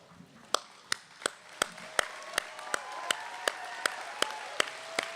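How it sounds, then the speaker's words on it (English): Commencement ceremony audience applauding the staff and faculty, with sharp, regular claps ringing out about three times a second over a building bed of wider crowd clapping. "let us give you a round of applause."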